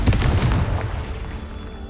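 A Confringo blast spell in the video game Hogwarts Legacy sets off a deep, booming explosion that hits hard at once and then rumbles away over about two seconds.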